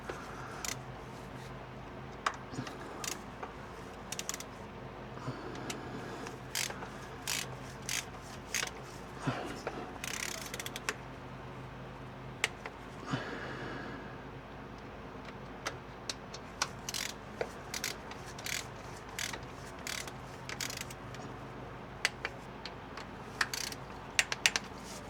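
A ratchet tightens the bolts of a Ford F-150 6R80 transmission oil pan in a crisscross pattern, giving short bursts of crisp clicks with brief pauses between bolts over a faint background hum.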